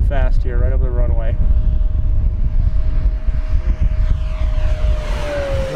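An FMS P-47 Razorback 1500mm RC model warbird makes a fast low pass over a runway, its engine whine holding a steady pitch and then sliding down as it passes, loud and close over heavy wind rumble.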